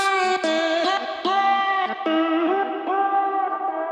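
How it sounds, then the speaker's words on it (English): A sustained, tonal vocal track steps between pitches in short phrases, washed in reverb and a heavy delay, with a filtered, smeared tail between notes. "it sends this track to some more reverb, to a crazy delay, and then it starts to filter it"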